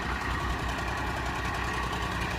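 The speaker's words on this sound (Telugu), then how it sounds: "ఇవన్నీ ఇవన్నీ పెద్ద పెద్ద మోటార్లు అండి" Large water pump motors drone steadily without a break, low and constant with a faint rhythmic vibration, draining floodwater; no one speaks.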